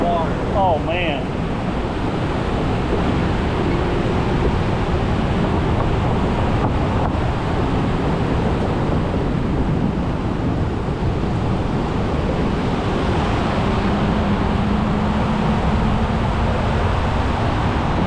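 Heavy rushing water runs steadily and close throughout, roaring and broadband, with gusts of wind buffeting the microphone and a brief voice near the start.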